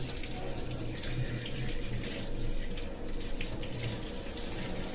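A tap runs while a child's hands are washed: a continuous close rush and splatter of water into a sink, steady throughout with slight swells.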